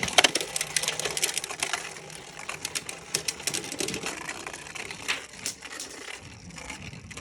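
Beyblade spinning tops clatter and scrape in a stadium, a dense run of sharp ticks and rattling hits close by, no talking.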